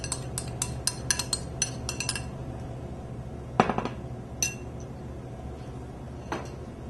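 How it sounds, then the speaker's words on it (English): Four egg yolks whisked briefly in a bowl, a fork or whisk clinking against the side in quick bursts of light taps, then fading to sparse, isolated clicks. "I'll break them, whisk them a little bit, put them right in the middle of the bowl"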